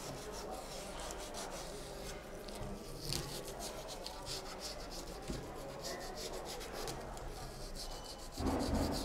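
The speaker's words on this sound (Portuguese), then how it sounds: "Reparem que mesmo a passar a lixa, como ela é de grão fino, ela não retira" Old wooden furniture is hand-sanded with fine-grit sandpaper, a close, steady rubbing and scratching with rhythmic back-and-forth strokes throughout, quiet and without talk.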